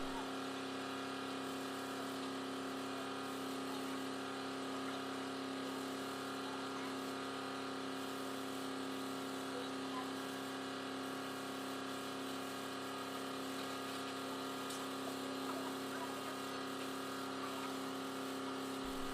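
A forklift engine lifting a mining haul truck wheel away from the axle hub, a steady droning hum with a constant tonal whine that runs evenly throughout at moderate level.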